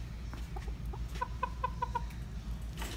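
A pet rooster inside an auto parts store gives a quick series of soft, rhythmic clucks, about ten short notes over two seconds, close and fairly quiet over a low room hum.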